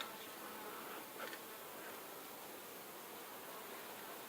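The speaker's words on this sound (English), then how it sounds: "Lots of bees here." A dense, steady buzz of many honey bees in an open hive fills the clip, close and continuous, with no voices.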